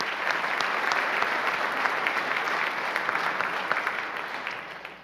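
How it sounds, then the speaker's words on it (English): Audience applause at the 2022 Anne Arundel County Executive debate, a steady, dense round of clapping from a seated crowd that holds for several seconds and slowly thins toward the end. "Just a round of applause for Mark and the chamber."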